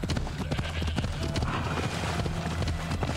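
In Assassin's Creed Odyssey, horse hooves gallop in a fast, steady clip-clop rhythm, close and loud, with a brief whinny mixed in and a voice speaking over it.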